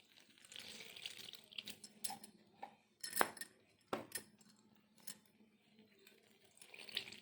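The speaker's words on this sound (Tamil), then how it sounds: "தண்ணியில் நனைச்சி எடுத்துக்கலாம்." Bread slices dipped one by one into a bowl of water in a home kitchen, heard as soft splashes and wet handling sounds with occasional clinks of a dish or utensil, close and fairly quiet.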